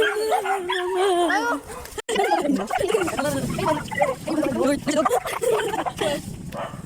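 A dog barks and yips, breaking into wavering howls, loud and close, with people talking over it.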